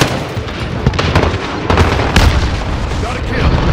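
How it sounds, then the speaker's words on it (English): Airstrike explosions in the video game Modern Warfare: several loud, close booming blasts roll one after another over dense battlefield noise, with a voice talking over the game audio. "airstrike target marked"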